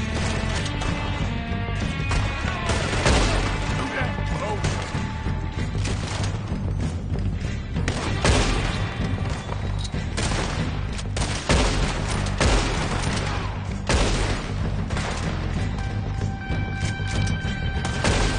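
Dense, continuous gunfire fills a Red Dead Redemption 2 shootout, with overlapping revolver and rifle shots, crashes and booms in a loud, unbroken barrage and little talk.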